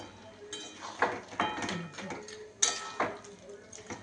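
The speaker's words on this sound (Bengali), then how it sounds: "এইটা দিয়ে আমি এবার নাড়তে থাকবো একটু, আর একটু নাড়বো" Metal spoon stirring mutton fry in a pot, a series of scraping clinks and knocks at uneven intervals, close and moderately loud, with some muffled kitchen background.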